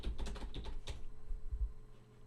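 Fingers type on a computer keyboard in a quick burst of crisp clicks that thins to a few scattered keystrokes, quiet and close, with no talking.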